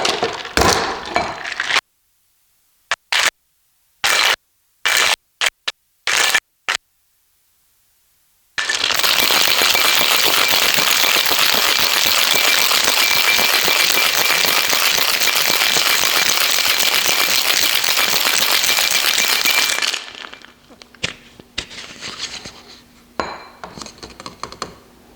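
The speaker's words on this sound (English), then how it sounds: "so now we just shake over ice" A cocktail is shaken over ice: a few sharp glass clinks, then about eleven seconds of loud, continuous rattling ice, ending with scattered clinks.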